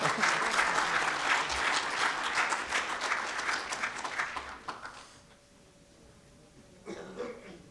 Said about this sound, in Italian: Io farei un applauso a Nicoletta